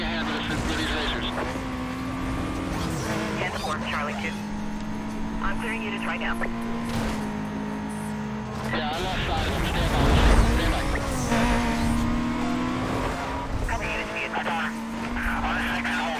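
A car engine in Need for Speed: Most Wanted revs and accelerates through rising and falling gear pitches, loud and continuous under excited talk from a player, with a heavier surge midway through.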